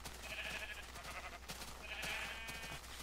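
Two short sheep bleats from Minecraft, each a wavering nasal cry, sounding moderately close over a low steady hum with no talking.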